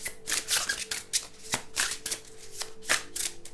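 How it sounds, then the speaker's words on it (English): Tarot cards being shuffled by hand in quick, repeated riffling bursts, with a few sharper card snaps standing out, close and fairly quiet with no voice over it. "I feel just guided to shuffle till something falls out rather than to pull it."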